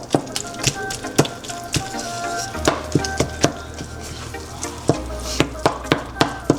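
Ground turkey cooks in a pan with a low sizzle under repeated sharp clacks of a utensil stirring and scraping against the pan, close and fairly loud.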